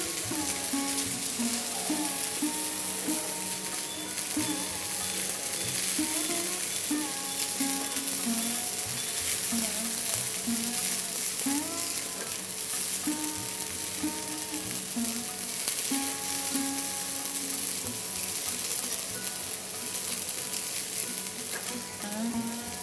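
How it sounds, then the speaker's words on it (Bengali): Onion paste fries over low heat in a pan for a Bengali prawn malaikari, a constant soft sizzle with the scrape and clatter of a spatula stirring it, and faint talk in the background. "পেঁয়াজ বাটাটা দেওয়ার পর নিভু আঁচে ক্রমাগত নেড়ে হালকা বাদামি করে ভেজে নিতে হবে।"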